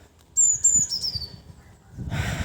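Birds chirp outdoors in a sunny yard, giving a quick burst of high, thin calls near the start, followed by quieter rustling and a soft scraping noise outside.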